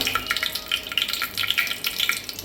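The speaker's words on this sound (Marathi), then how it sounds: "आपण टाकून घेतल्यावर थोडं चांगली लालसर भाजून घेऊया." Cumin seeds sizzling and crackling in hot oil while roasting for dahi kadhi, a steady close hiss with scattered sharp pops throughout.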